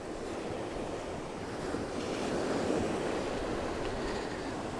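Waves washing onto the beach at Skegness in blustery weather: a continuous broad rush of surf that swells briefly louder midway, mixed with wind buffeting the microphone.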